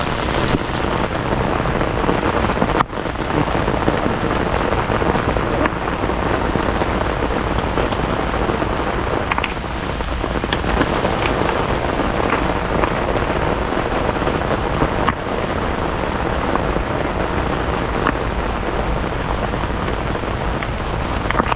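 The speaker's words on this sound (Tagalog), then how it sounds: "Uy, sarap ng ulan." Heavy rain pouring steadily on surfaces, a dense, constant hiss and patter that stays loud throughout, with a couple of sharp knocks breaking through.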